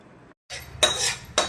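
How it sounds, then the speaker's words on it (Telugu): A metal spoon clinks and scrapes against a pan while stirring ginger-garlic paste into warm oil for a mango pickle, a few sharp clinks over a short sizzling scrape, close and fairly loud. "గోరువెచ్చని ఆయిల్ అయ్యాక అల్లం వెల్లుల్లిపాయ పేస్ట్ వేసుకొని ఇలా కలుపుకోవాలి"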